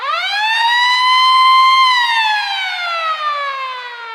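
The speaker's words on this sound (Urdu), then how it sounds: "وہ سائرن جو شاید کوئی بھی سیلر اپنی سروس میں سننا ہی نہیں چاہتا۔" Air raid siren at a naval base, one loud sustained wail that rises steadily, holds, then slowly falls in pitch, heard alone with no voices.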